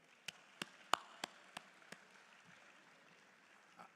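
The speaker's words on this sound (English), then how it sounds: "Can we give them a round of applause," A handful of separate, sharp handclaps ring out at roughly even intervals in a quiet hall at an African trade fair award presentation, then thin out and fade, leaving near silence.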